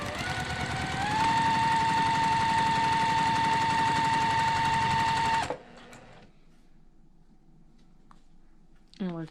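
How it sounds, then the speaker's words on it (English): A sewing machine runs fast and steady through a quarter-inch seam, a loud rapid mechanical rattle with a whining motor tone that stops abruptly, followed by quiet fabric handling and light clicks. "go ahead and sew a 1/4 inch seam"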